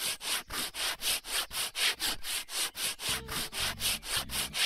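A surface is scrubbed in the video game Garage Flipper, a rapid rhythmic back-and-forth rubbing with about four strokes per second, steady and close, joined partway by a soft tonal game sound.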